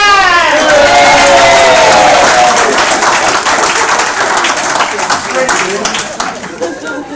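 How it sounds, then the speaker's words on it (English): Wedding guests applaud the best man, a loud, dense wash of clapping from a crowd with cheers and voices mixed in, fading slightly toward the end. "Ladies and gentlemen, give a hand of applause for the best man."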